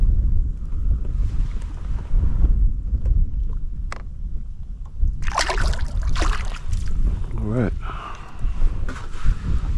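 Strong gusty wind buffets the microphone on a fishing boat out on the water while catching redfish, loud rumbling gusts with splashing and brief creaks over the roughly ten seconds.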